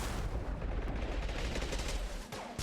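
Rapid gunfire rattles in a Mass Effect firefight, a loud continuous barrage of overlapping shots that barely lets up for the whole stretch.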